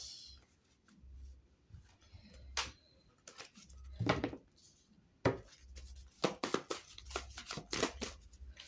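Tarot cards are shuffled, flipped and laid down in a quiet room, giving soft papery rustles and sharp flicks in irregular bursts, with faint breaths between.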